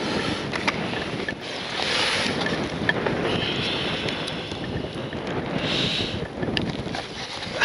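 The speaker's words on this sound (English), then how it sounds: "the wind's getting up again" Wind blows outdoors at an airfield, a steady rushing buffet on the microphone with low rumbling gusts throughout.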